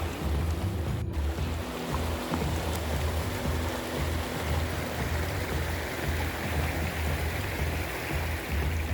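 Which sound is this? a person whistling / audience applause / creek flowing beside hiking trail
creek flowing beside hiking trail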